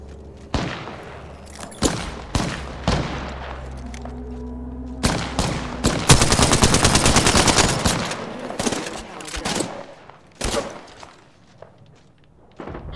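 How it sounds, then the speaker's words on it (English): Gunfire in Apex Legends, including an L-Star and an Alternator, comes as loud, close single shots and heavy thuds, then a dense burst of rapid automatic fire, then more scattered shots. "Listen up, I'm getting shot at."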